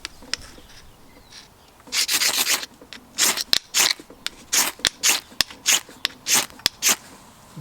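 A Mad Dog ferro rod striker scrapes down a ferro rod in quick rasping strokes, about a dozen short bursts in an irregular rhythm, close and fairly loud, with faint clicks between them.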